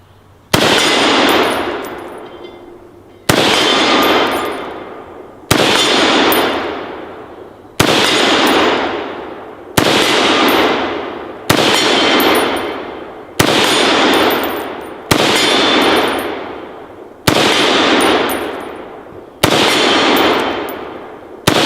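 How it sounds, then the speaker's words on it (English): An AR10 rifle fired outdoors in the woods, ten loud, sharp single shots spaced about two seconds apart, each followed by a long rolling echo that fades before the next. "we'll see how it does today out here in the woods, firing off some rounds"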